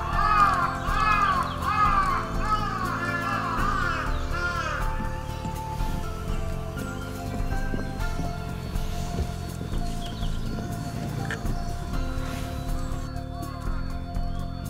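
A crow caws loudly and repeatedly outside a house, the harsh calls clustered near the start and fading into a busy background of other sounds, with a narrator's voice running over much of it.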